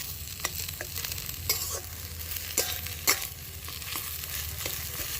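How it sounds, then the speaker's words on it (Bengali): A spoon stirs chopped fresh coriander into a semolina singara filling in a pan, giving soft repeated scraping and clinking strokes over a faint sizzle, close and fairly quiet, with no talking. "দিয়ে এবার এই ধনেপাতাটাকে একটু মিশিয়ে নিয়ে নামিয়ে নেব।"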